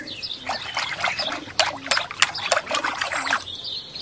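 Cooking liquid pours and trickles into a large pot in a rural kitchen in bursts of splashing, close by, with faint chirping in the background.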